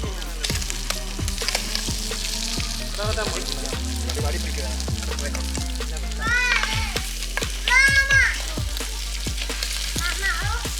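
Cuttlefish fries in a pan for a Jaffna-style curry while a big spoon scrapes through it in a steady rhythm of sharp clicks over a constant close sizzle, with faint voices in the background.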